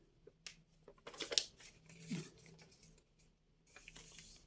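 Paper being folded and creased by hand while making small envelopes for a junk journal, with brief crisp rustles and a sharp crackle near the middle, close and fairly quiet.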